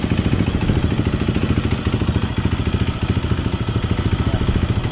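A Husaberg 350cc dirt bike fitted with a Rekluse automatic clutch idles close by, its single-cylinder engine chugging in a fast, steady, loud clatter that runs without a break.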